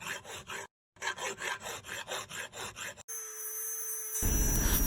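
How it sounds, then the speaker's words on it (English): A metal file rasps across the steel head of a cheap Harbor Freight axe in a steady run of rhythmic back-and-forth strokes with a short pause, then the tone gives way to a steady whine and hiss. "Then take the metal file like you see here. Just get it nice and smooth,"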